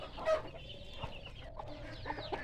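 Chickens cluck nearby, a few short bursts and soft murmuring calls over quiet background noise.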